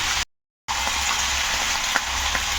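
Sesame seeds frying in a pan for chutney, a steady close crackling sizzle with faint stirring clicks, broken by a short dropout.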